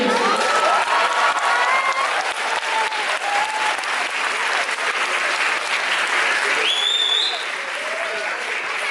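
A festival audience at a Kannada Rajyotsava celebration claps in a full, sustained round of applause, with voices and a few whistles mixed in, easing slightly toward the end.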